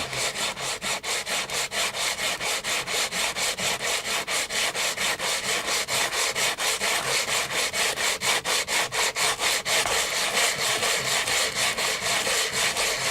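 Steady rhythmic rubbing of wet silicon carbide abrasive paper, a harsh rasping scrape repeated back and forth in quick even strokes, close and loud.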